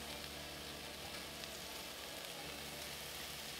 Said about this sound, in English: And then you just want to crumble it, put it in the pan here.